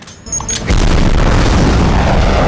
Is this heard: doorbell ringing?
no